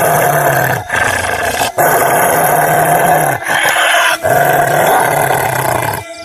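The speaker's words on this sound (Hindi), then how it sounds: "तभी झाड़ियों में से किसी के गुर्राने की आवाज आने लगती है।" A creature growls from the bushes in a horror tale, a loud, rough, continuous snarl that rolls on for several seconds with brief dips, heard alone without talk.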